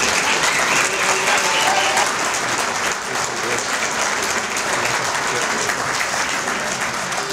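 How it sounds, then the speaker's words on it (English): At an awards dinner for the ECABC Hall of Fame, an audience breaks into sustained applause, a full, even patter of many hands that stays strong throughout without pause. "Please give him a round of applause."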